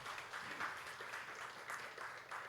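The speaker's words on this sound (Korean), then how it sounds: "박수 한번 줄까요?" Congregation applause at a Sunday church service in Korea, a steady soft patter of many hands clapping together, fairly faint and diffuse with no talking.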